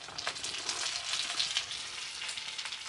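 Pre-cooked shrimp frying in a pan with sauce and cooking oil, giving a steady close sizzle and crackle with no one talking.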